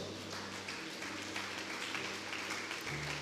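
A church congregation claps at a sermon, soft and distant applause over a low steady hum, quiet throughout.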